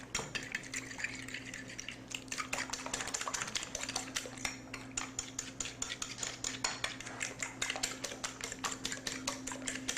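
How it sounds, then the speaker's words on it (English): Spices (black pepper, garlic and salt) stirred into egg in a bowl with a utensil: rapid, steady clinking and scraping strokes against the bowl, close and continuous throughout, with no talk. "In the egg, we're going to put all the spices, the black pepper, the garlic, and the salt. Stir it up in there."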